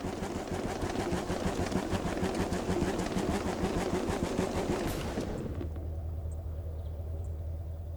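A monster truck engine in the Hot Wheels Monster Jam video game roars in a rapid, rattling burble while doing donuts, then cuts to a steady low idle hum.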